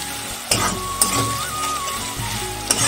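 Spice masala of turmeric, chilli and coriander frying in plenty of oil for a soybean curry, a dense close sizzle broken by a few sharp spatula knocks against the pan, with no voices.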